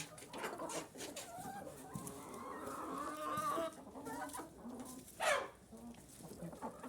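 Backyard hens, including a white bantam, cluck and call softly at close range after a meal of steamed feed, with scattered pecking and shuffling sounds throughout.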